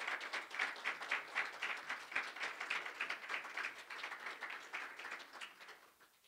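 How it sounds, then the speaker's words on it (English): A church congregation claps during a Sunday sermon, a steady patter of many hands at moderate volume that thins slightly toward the end. "Man, please give the Lord a clap."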